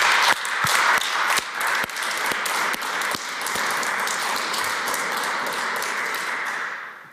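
Audience applause at the ETH Day 2020 ceremony, a dense wash of clapping from a large crowd with a few sharp individual claps standing out near the start, steady for several seconds before tapering off at the end; no talk.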